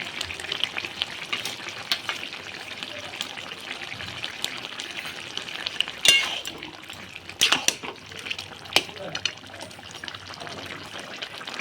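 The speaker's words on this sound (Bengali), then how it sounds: "আর দিয়ে দেবো ভেজে রাখা ধনে জিরের বাটা" Fried coriander-cumin paste frying in a pan for a fish curry, a continuous close sizzle with occasional stirring scrapes and clinks, no talking.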